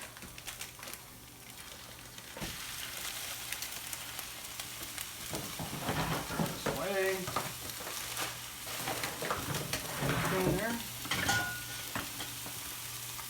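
Ground turkey fries in a pan with onions, garlic and peppers for tacos, a steady sizzle broken by scraping stirs and clatters of a utensil, close and continuous throughout.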